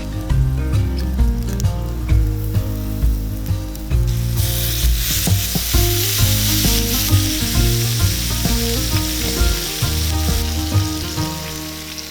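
A snack with butter and sauerkraut sizzles loudly and steadily in a frying pan, with occasional clinks and scrapes of stirring heard up close, no one talking.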